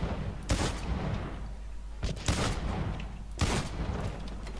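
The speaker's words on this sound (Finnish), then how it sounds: "Ammuin näin kaukaa revolverilla ne tuolta." Three loud revolver gunshots in the video game Blacklight: Retribution ring out at irregular intervals, each sharp crack trailing into a decaying rumble over steady background noise.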